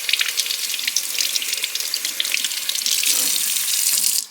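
Tap water runs and splashes as a stainless steel tumbler is rinsed under the faucet, a steady hissing stream with shifting splashes that grows brighter near the end before cutting off.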